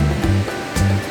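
Shannon Falls, a tall waterfall in British Columbia, gives a steady broadband roar, with brief low surges woven through the continuous rush.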